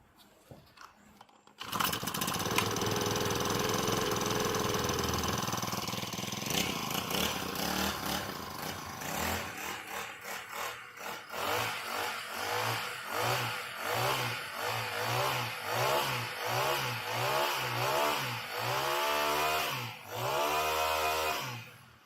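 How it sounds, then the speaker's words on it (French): A four-stroke brushcutter engine starts and runs alone, a buzzing, chainsaw-like drone that settles into rhythmic revving pulses toward the end, fairly loud and close. "nous avons là un moteur de débroussailleuse 4 temps que je vais faire tourner quelques instants devant vous"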